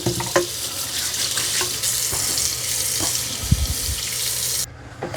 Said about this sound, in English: let's wash all the parts that I can wash